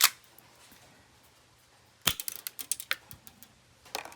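A metal airsoft BB gun fires: one sharp crack, then a quick burst of snapping clicks after a pause, with a few more faint clicks at the end, close and fairly loud in a quiet room.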